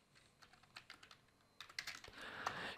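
Keys on a computer keyboard are tapped in short, quiet bursts at close range, with soft irregular clicks growing a little denser toward the end.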